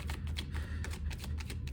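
A deck of cards is shuffled close by, a quick dense run of crisp riffling flutters lasting under two seconds, with no voice over it.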